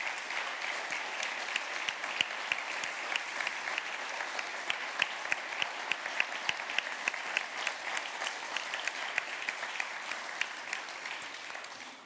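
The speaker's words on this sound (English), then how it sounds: "A big round of applause to our keynote speakers." Steady applause fills a symposium hall after keynote speakers' presentations at an architecture award event, a dense, even clatter of many hands with sharper claps scattered through it, lasting the whole stretch without a break.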